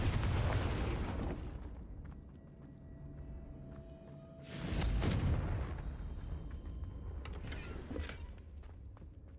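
A Confringo fire spell explodes in Hogwarts Legacy on Switch, a loud broadband blast bursting out mid-clip over a steady rumbling game backdrop, then fading into lingering ambience.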